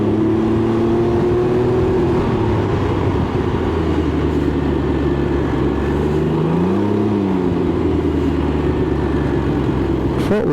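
A Can-Am Ryker 900 three-wheeled motorcycle being ridden, its engine droning steadily at close range with wind rush and a brief throttle swell near the middle, no voices.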